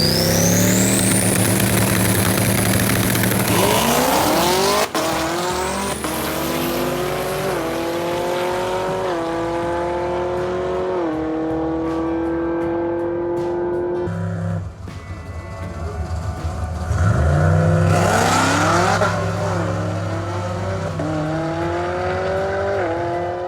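A 2019 Camaro ZL1 launches at a drag strip. The engine pitch climbs sharply through several gear changes over a long run, then a second loud wave of engine noise swells near the end.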